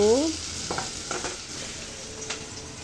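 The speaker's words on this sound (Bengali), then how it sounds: "আমি সরিষার তেল দিলাম তার ভিতরে পেঁয়াজ আর মরিচ দিয়ে দিলাম" Onion and chillies fry in mustard oil, a soft steady sizzle with a few faint clinks and scrapes of a spoon, heard close and fairly quiet with no talking.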